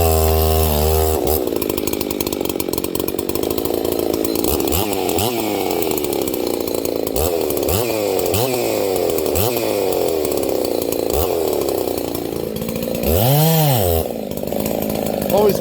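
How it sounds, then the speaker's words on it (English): A ported Husqvarna 266 SE chainsaw warms up in wet woods, revving loudly and repeatedly between high whine and lower idle throughout, with a final rise and fall near the end. "Always warm up your saws"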